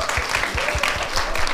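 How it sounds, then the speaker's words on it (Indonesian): An audience at a performance applauds the lighting designer with a dense, even wash of clapping, steady and fairly loud throughout, with faint talk beneath. "kita beri tepuk tangan juga."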